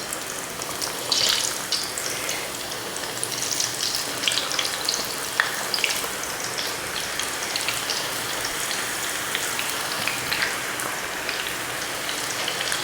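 Sliced cassava chips drop into hot oil in a home kitchen and fry with a dense, steady crackling sizzle like light rain, with a few sharper pops and no voices.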